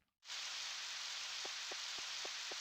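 Rain in the farming video game Harvest Moon 64 starts after a brief silence and becomes a constant soft hiss, with a few faint ticks spaced through it.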